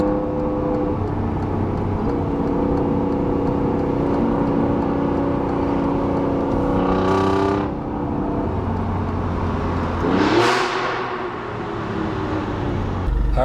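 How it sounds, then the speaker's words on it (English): An Alfa Romeo Giulia Quadrifoglio engine drones steadily, then revs climb and drop sharply in a couple of downshift bursts, with a loud exhaust blip near the end, close by. "Downshifts are just so obnoxiously awesome."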